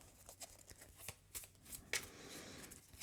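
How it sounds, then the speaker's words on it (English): A deck of Marvel Champions encounter cards being shuffled at a tabletop game, with a series of soft riffling rustles and quick papery flicks, close and fairly quiet, ending in a sharper burst of snapping cards. "All right, so we're supposed to shuffle this."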